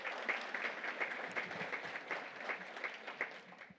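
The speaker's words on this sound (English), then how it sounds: "Thank you for the applause" An audience at a lunch keynote gives continuous, fairly even applause, many hands clapping in a soft, moderately distant wash that holds for several seconds with no talking.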